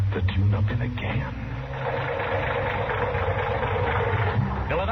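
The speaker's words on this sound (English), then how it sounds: "that engine of yours sounds like real tired iron" A tired, worn car engine idles at a gas station, a steady low rumble running throughout under speaking voices in an old radio drama scene.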